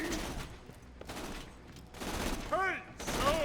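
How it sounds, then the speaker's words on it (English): Jacobs sniper rifle with a Vladoff barrel and fire rate boost firing in Borderlands, a series of sharp gunshot bursts separated by short gaps, with metallic ringing pings between shots. "That's a Vladoff barrel Jacob sniper with a fire rate boost"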